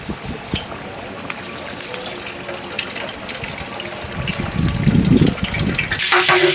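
Rice tipped into hot oil and pure ghee in a large pot for a village-style chicken biryani, a loud rushing pour that swells near the end, with a faint voice briefly underneath.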